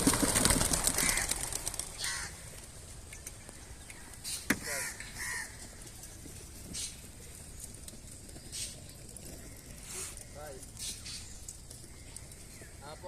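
Racing pigeons being released for a 14-kilometre air-distance toss: bird wing flutters and calls come close at first, then soften, with people talking throughout and occasional knocks.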